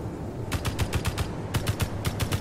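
Rapid automatic gunfire bursts from the side of a ship in the Space Engineers game, a fast rhythmic stream of punchy shots in two volleys with a brief gap between.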